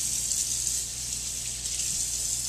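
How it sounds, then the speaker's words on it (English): Hands being washed under a kitchen tap before preparing food, a steady, close gush of running water that continues without a break. "the first thing you want to do before you start preparing any food is wash your hands"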